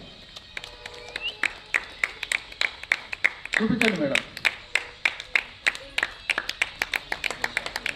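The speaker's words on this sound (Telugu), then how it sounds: "ఆ కార్డు మీకు చూపిస్తారు మీరు చప్పట్లు కొట్టాలి" A crowd claps in rhythmic, steady beats at a Brahmin association's felicitation ceremony honouring top students, the clapping sustained and fairly loud, with a brief spoken phrase partway through.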